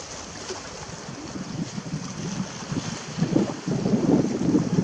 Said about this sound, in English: Oh, don't blow wind, stop.